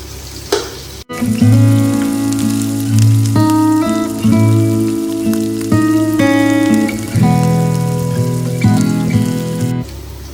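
Chopped onions sizzle steadily in a pan while being stirred until lightly browned, with melodic instrumental music playing over the frying for the whole stretch.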